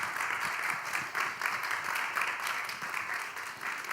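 Audience at a talk held in a Berlin cultural venue gives steady applause, a soft, fairly distant wash of clapping that stays even for a few seconds.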